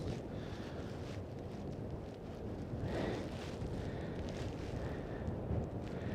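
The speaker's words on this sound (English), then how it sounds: "it is just that windy right now" Strong wind buffets the microphone outdoors in Brooklyn, a steady, dense rumbling roar with gusty surges that fills the whole stretch, with no voices over it.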